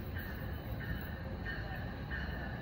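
NJ Transit commuter train at Maplewood station in New Jersey during evening rush, a loud steady rumble with four repeating tonal squeals or horn-like notes at regular intervals, the train close by.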